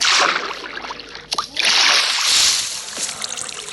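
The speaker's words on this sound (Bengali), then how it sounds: "ঝর্ণার থেকে কিছু জল নিচ্ছি" Water being scooped from a fountain in the Minecraft video game: bright splashing and sloshing bursts, loud and close, with a short break near the middle before the watery rush resumes.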